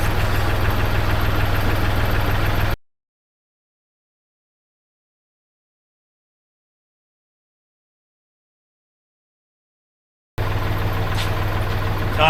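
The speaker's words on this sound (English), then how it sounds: "Plus I got the engine on running the hydraulics up." The engine powering the hydraulics on a homemade material spreader runs at a steady idle with a low throb. It cuts out to total silence for several seconds, then the same engine drone returns.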